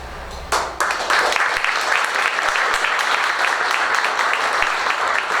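An audience at an outstanding-educator awards event breaks into applause, a sudden onset then a dense, sustained clapping from many hands that holds loud and steady for several seconds.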